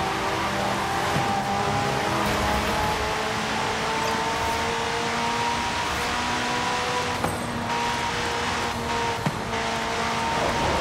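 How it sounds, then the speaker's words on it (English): A race car in Forza 5 drifts with a sustained engine drone and smeared tire squeal, a steady loud roar running throughout with a couple of brief sharp scrapes near the end. "he's drifting like crazy"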